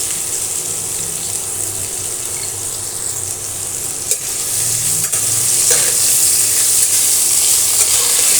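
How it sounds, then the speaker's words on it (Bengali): Parboiled pointed gourd (potol) with turmeric fries in hot oil, producing a loud, dense, continuous sizzle up close, with a couple of sharp clicks and stirring movements. "লাল লাল করে পটলগুলো ভেজে নেব"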